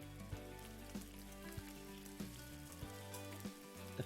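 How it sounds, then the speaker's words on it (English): Low, continuous sizzling of a frying pan in the video game National Park Girls, a faint crackling hiss that runs steadily under soft tonal background sounds. "The frying pan sizzles in the background as everyone goes about their morning"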